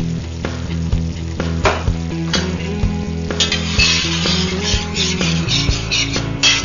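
Canned tomatoes hit a hot pan of cioppino base, giving a loud, continuous sizzle laced with repeated metallic scrapes and clinks of a spoon stirring against the pan.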